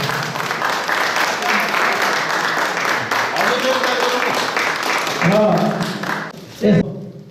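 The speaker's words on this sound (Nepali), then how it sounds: "सम्मानपूर्वक ताली बजाएर सहयोग गर्न अनुरोध चाहन्छु" An audience claps steadily throughout, a dense wash of applause with voices talking over it and a brief thump near the end, at a badminton tournament closing ceremony.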